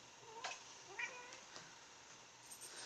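A five-year-old short-haired domestic tabby cat gives a few soft, brief meows spaced over a few seconds in a quiet indoor room, faint and close with no talking.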